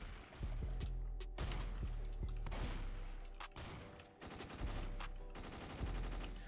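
Rapid automatic gunfire rattles in bursts from a gun in the video game Strucid, dense repeated shots with brief pauses between volleys, loud and close with no talking.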